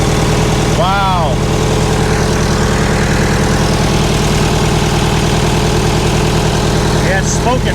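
An old forklift engine idles steadily with a constant low rumble and a rough mechanical beat throughout, loud and close, with a few brief squeaky chirps rising over it.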